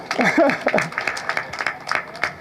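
Audience clapping for themselves at a community gospel celebration of life, a scattered round of applause with sharp claps rising and falling under a speaking voice.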